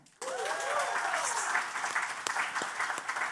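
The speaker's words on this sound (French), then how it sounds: "Main d'applaudissements maintenant." A live studio audience at a radio podcast recording in Sherbrooke bursts into applause that starts abruptly and holds steady, with a whoop or cheer rising near the start and scattered louder claps throughout.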